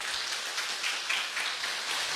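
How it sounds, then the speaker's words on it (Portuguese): A church congregation applauds as a reverend is welcomed to the front, a steady, fairly faint wash of clapping with no clear break for its whole length. "Recebam com a salva de palmas"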